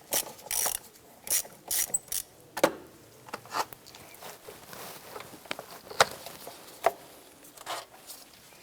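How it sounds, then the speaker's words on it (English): A ratchet fitted with an 8mm socket and extension loosens a clamp near the air intake of a 2007-2012 Nissan Versa during exhaust manifold work, giving rapid close clicking bursts with short pauses between strokes, no speech. "let's switch over to our 8mm socket. We're going to use a little extension here to make access a little bit easier"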